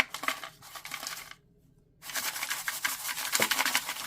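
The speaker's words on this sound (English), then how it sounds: "I'm gonna shuffle them, and it's gonna be noisy, just warning." Zodiac sign and planet cards shuffled by hand in a tarot reading, giving bursts of dense papery riffling and flicking, close and fairly loud, broken by a brief pause before resuming.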